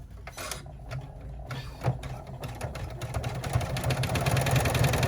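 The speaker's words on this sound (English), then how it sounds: "it's going to go ahead and stitch down to the bottom" An embroidery machine stitches down the lining of a slim cell-phone bag in the hoop, a steady mechanical whir with rapid repeating needle strokes that grows gradually louder over about five seconds, with no talking.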